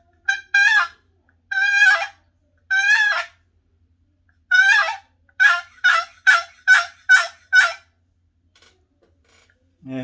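Raspy, yelping hen calls from a wooden turkey box call, imitating a boss hen: two short series of loud, harsh yelps followed by a quicker run of six or seven clipped notes, played close and alone.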